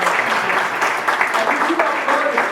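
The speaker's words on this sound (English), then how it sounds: "can I have a really big round of applause?" An audience applauds loudly at an official launch event for MwanAfrika, a dense, continuous roar of clapping mixed with voices calling out.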